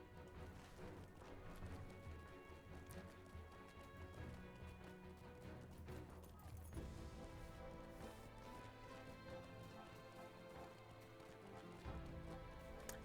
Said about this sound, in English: I'm going to use my regular horse to ride around a little more quickly.